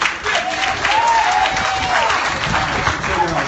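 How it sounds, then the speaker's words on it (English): An audience applauds a volunteer named Gabe with sustained, dense clapping and crowd noise, loud and close throughout, while a voice is heard briefly over it. "Give Gabe a round of applause"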